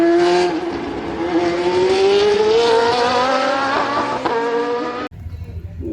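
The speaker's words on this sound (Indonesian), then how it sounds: "ada mobil balap F1" An F1 race car engine revs loud and close, climbing steadily in pitch for about five seconds before cutting off abruptly, followed by a quieter low rumble.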